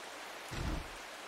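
Steady rain in the video game Strange Horticulture gives a constant soft wash of hiss, broken halfway through by a short, muffled low rumble like distant thunder, with nobody speaking.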